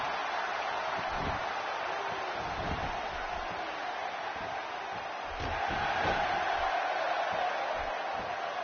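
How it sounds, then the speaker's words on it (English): A wrestling crowd in a PS4 game cheers as a continuous, muffled roar of many voices, steady throughout with slight swells, under a busy game mix. "by the sound of this crowd, I think they're getting what they wanted"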